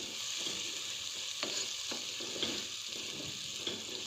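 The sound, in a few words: tomatoes cooking with salt in a pan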